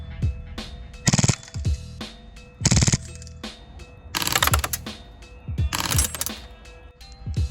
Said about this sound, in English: AAP-01 full auto.